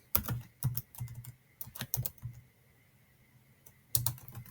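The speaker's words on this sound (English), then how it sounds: "and then typing the following" A computer keyboard is typed on in short clattering bursts of keystrokes separated by brief pauses, close and fairly quiet.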